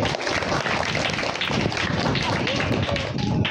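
An audience at a junior basic school's Agamoni cultural function in Hooghly claps in a dense, continuous burst of applause, with voices mixed in throughout.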